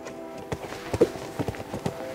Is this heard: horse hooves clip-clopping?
yes